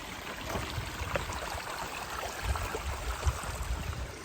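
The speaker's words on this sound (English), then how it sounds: "we come to this creek crossing or river." A creek at a trail crossing on the Ouachita Trail flows with a steady, even rushing, close by and unbroken, with no voices over it.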